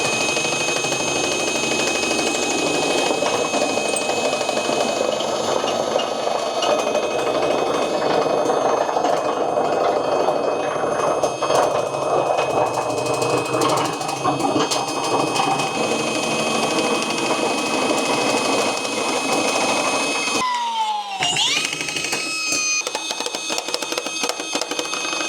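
A Milwaukee power tool cutting a circle in metal, producing a steady, dense mechanical whine and grinding hiss for about twenty seconds, then stopping abruptly as the motor winds down with a falling pitch.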